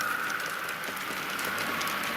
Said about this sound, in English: Train running.